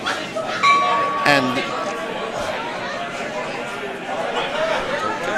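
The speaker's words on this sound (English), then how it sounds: "somebody completely non-related to the Bonspiel committee just rang the Bonspiel bell" A bonspiel bell at a curling event rings once with a clear sustained tone early on, ringing out over a crowded room of chatting voices and occasional clinks.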